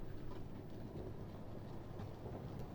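A model Class 46 locomotive hauls a train along dirty toy track, giving a continuous low rumbling whir with faint clicking from the wheels, close and steady throughout.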